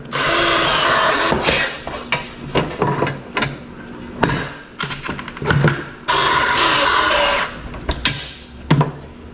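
A long screwdriver tightens screws into a wooden workbench under construction: repeated scraping, clicking turns and knocks come in bursts with brief pauses, close and fairly loud, with no talking.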